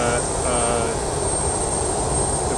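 Steady, loud engine drone from a parked airplane at a North Pole ice camp, with a broad continuous roar and whine filling the whole stretch, no voices over it.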